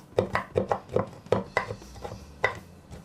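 Baker's chocolate for fudge is chopped with a knife on a board: about nine quick, crisp knocks in an uneven rhythm, close and fairly quiet, with no voices.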